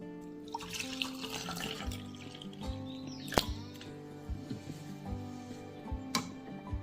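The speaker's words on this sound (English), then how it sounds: "And we're going to fill it with water." Water from a tap fills a 200 ml glass, a steady close splashing trickle with small drips and clinks, alone without talk.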